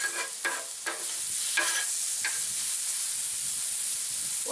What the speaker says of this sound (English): I'm using it to work the vegetables, get them starting to thaw over here on this little cooler side.